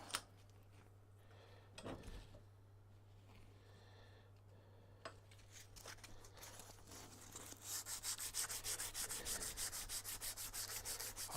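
An old kitchen knife rubbed with sandpaper in a workshop, a soft scratchy rasp that is quiet at first, then turns into faster, steadier back-and-forth strokes in the later seconds.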